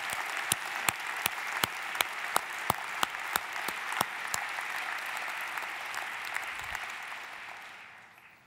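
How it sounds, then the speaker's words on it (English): Audience applause at a university presidential inauguration ceremony, a dense, sustained round of clapping from a large crowd with a few sharp nearby claps standing out, gradually fading at the end. "How about a round of applause for a tartan?"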